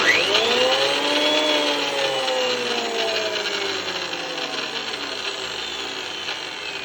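A JET thickness planer runs steadily after its switch button has been replaced, a loud continuous motor whine and whir with a slowly falling pitch, close and alone without talk.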